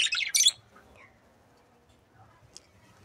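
Grey cockatiels in a small home bird setup let out a quick burst of sharp chirps up close, then fall mostly quiet apart from one faint later chirp over soft background rustle.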